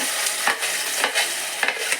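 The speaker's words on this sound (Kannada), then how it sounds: "ಇವಾಗ ನಾನು ರುಬ್ಬಿರುವಂಥ ಮಸಾಲೆಯನ್ನು ಈ ಎಣ್ಣೆಗೆ ಹಾಕ್ತಾಯಿದ್ದೀನಿ, ಒಗ್ಗರಣೆಗೆ" Ground masala sizzles and crackles in hot oil for a black-eyed bean curry while a spoon scrapes and stirs the pan in repeated strokes, close and fairly loud.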